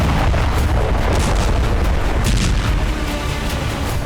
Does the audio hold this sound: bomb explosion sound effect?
yes